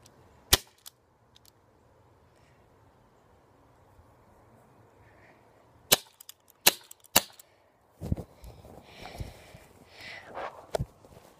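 Sharp airsoft gun shots fire singly with quiet pauses between, a few in quick succession, followed by light rustling and handling noises nearby.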